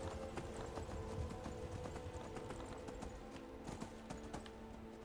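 Horse hooves clip-clop in a quick, steady rhythm in the video game Skyrim, light taps repeating over a soft background; no one speaks.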